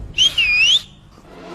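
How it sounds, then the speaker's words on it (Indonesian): Someone whistles a short sliding two-part tune, clear and close, lasting under a second and then dropping away into quiet, with no one speaking. "Kok ada yang siul-siul sih?"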